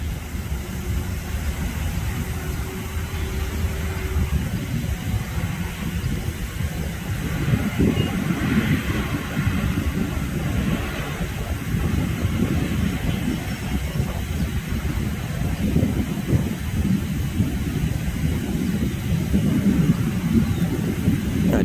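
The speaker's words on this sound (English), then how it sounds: "Here comes out the trackmobile again." A trackmobile railcar mover works a rail yard in Kaukauna, Wisconsin, its engine giving a continuous low rumble with some rolling rail noise, steady and moderately near throughout.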